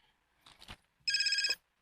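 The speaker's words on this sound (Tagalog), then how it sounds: "Ang cellphone." A cellphone ringing indoors: a single bright electronic ring burst, loud and close, following a few soft indistinct sounds.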